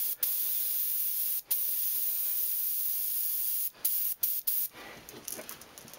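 Airbrush spray paint hisses onto a crankbait lure being painted as a bluegill, in steady close bursts with a few short pauses, ending in choppier, sputtering sprays.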